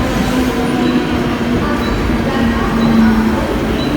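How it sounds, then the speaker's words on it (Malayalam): A suburban train arriving at a busy Mumbai station rumbles steadily nearby with a low droning hum and a faint tonal whine, continuous and fairly loud throughout. "പൻവേൽ പോണ വണ്ടിയാണ് ഇപ്പോൾ വന്നത്"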